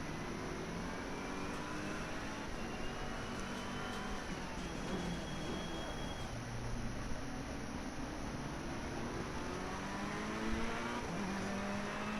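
A race car in Assetto Corsa Competizione on PS4 at the Kyalami circuit drones steadily, its engine pitch climbing and dropping repeatedly through gear changes, with no voice over it.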